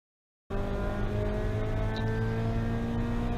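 A race car on a lap of the Club Motorsports track holds a steady, loud engine drone at full speed, with a faint high tire squeal partway through and no voices.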